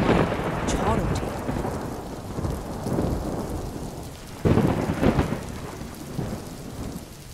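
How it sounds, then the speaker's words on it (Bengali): A sudden evening thunderstorm over a riverside village, with heavy rain pouring steadily and rolling thunder rumbling throughout, capped by a loud crack near the middle. "হঠাৎ একদিন সন্ধ্যার সময় ঝড় ওঠে"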